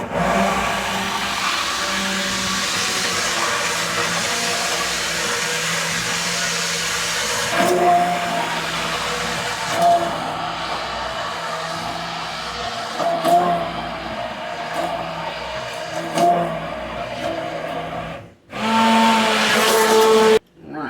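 A Braun hand blender whirs through holiday gravy, a continuous loud motor drone with varying pitch and short pauses, stopping and restarting near the end.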